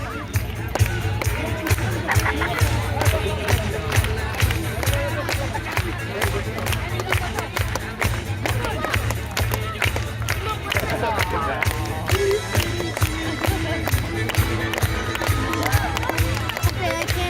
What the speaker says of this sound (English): when you hear that music, clap along over to the rhythm